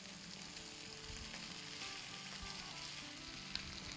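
Vegetables sauté for a chili mutton stir fry, giving off a steady broadband sizzle that holds close and even throughout, with faint clinks of utensils underneath and no talking.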